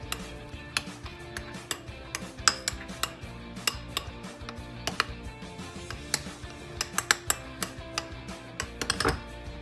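Fluffy slime mixed with a utensil in a bowl, giving a steady run of small clicks, scrapes and taps from the utensil against the bowl, close and fairly quiet, with no talking.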